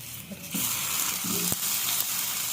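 Tomatoes placed on a lightly oiled tava griddle set off a steady, bright sizzle that holds at a constant level, with a few soft knocks as the pieces go down.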